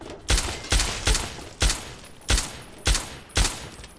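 Gunfire in the horror game Obscurum as an enemy is gunned down: seven sharp, loud shots spaced roughly half a second apart, each a punchy crack with a short decay, close and clear with no talk over it.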